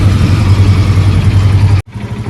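Parked tractor engine idling loudly and close, a steady low throbbing rumble that cuts out abruptly for an instant near the end before resuming.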